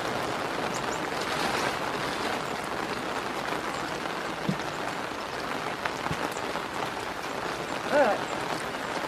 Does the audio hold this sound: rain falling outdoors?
yes